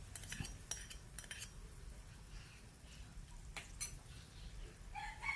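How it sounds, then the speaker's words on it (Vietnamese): A spoon stirs chili sauce and spices in a bowl for braised tofu dip, giving a few faint, scattered clinks against the bowl over a quiet background. "mình khuấy cho nó đều luôn nha quý vị"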